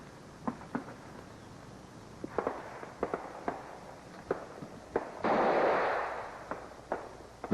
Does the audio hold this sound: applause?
no